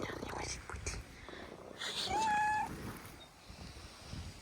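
Small cats in Greece give a short, clear meow close by, with faint whispering and soft talk around it.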